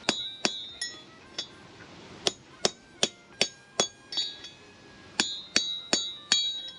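A hammer bashes out the large bearing race from a caravan wheel hub: an irregular run of about sixteen sharp, close metallic strikes with ringing clinks, some in quick pairs.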